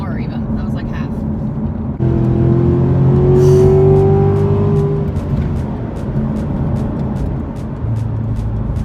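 A Chevrolet Corvette C7 accelerates hard, its engine note climbing in pitch over several seconds and then easing off, loud and close from inside the car, with people talking over it.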